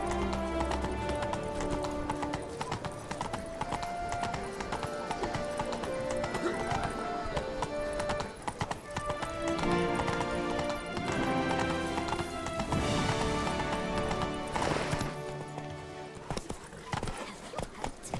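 Roach, the horse in the video game Witcher 3, gallops with steady clip-clopping hooves, set under loud orchestral game music with occasional voices.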